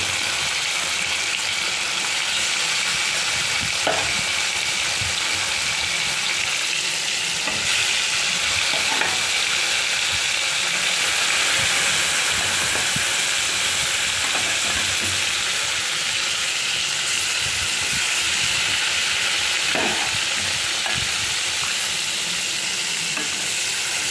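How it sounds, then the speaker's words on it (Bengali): Snakehead fish fries in hot oil in a kadai, giving a dense, continuous sizzle with occasional stirring scrapes and pops throughout. "দেখো, তেলটা গরম হয়ে গেছে। এবার আমি মাছগুলো দিয়ে দিচ্ছি"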